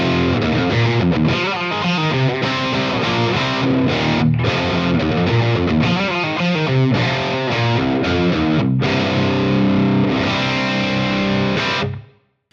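Electric guitar played through an amp with heavy drive and a touch of reverb, phaser pedal switched off, strumming dense chords and riffs loudly and steadily for about twelve seconds before cutting off abruptly.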